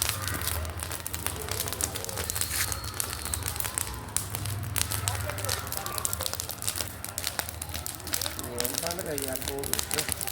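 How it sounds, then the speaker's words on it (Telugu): Crackling Bhogi festival bonfire lit in the early morning, a steady spread of close pops and snaps running the whole way through, with people talking over it. "ఎంత పెద్ద మంటలు వేసుకుంటుంది భోగి మంట"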